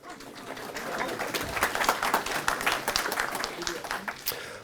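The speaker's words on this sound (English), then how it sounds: "This is when you clap." An audience claps at a presentation, a short burst of applause from a room full of people, fairly close and lively, dying away after a few seconds.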